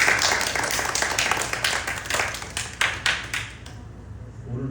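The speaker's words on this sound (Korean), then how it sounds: "우리 박수 한번 주세요" A small indoor congregation applauds after thanks for a meal, a burst of dense hand clapping that rolls on for a few seconds and then trails off into quiet room tone.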